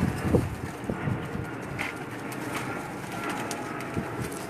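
Teddy pigeons, a mix of cross-bred and Dubai-line birds, coo softly among background noise, with a few brief louder calls near the start and scattered faint cooing afterward.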